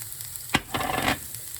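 Fresh ginger hitting caramelized onions in a hot pan, a sharp sizzle burst followed by a sustained crackling fry that fades after about a second, close and clear with no talk.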